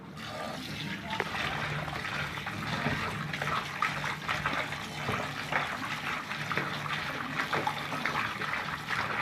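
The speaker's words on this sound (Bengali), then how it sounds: "মাছ আপনার যত ভালো করে ধোবেন তত ভালো" Running water from a tap while fish is washed repeatedly by hand, a steady close splashing and trickling flow with handling noises throughout.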